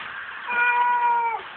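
A cat being bathed gives one drawn-out, rising-then-falling meow, clear and close, with faint background noise and no talking.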